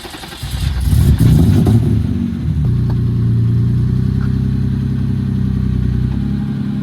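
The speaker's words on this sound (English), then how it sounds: "straighten the wheel and back it up" A car engine runs steadily while the car backs up with its wheel straightened during a DIY alignment, with a louder surge and some clatter at first, then a sustained rumbling idle.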